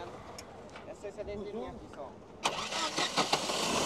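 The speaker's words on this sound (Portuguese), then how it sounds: "O amigo vai dar partida aqui no motor para a gente escutar o carro funcionando." A Fiat Bravo engine cranks with a whirring starter, then catches midway and settles into a loud, close idle at a used car fair in Caruaru, with a person talking during the cranking.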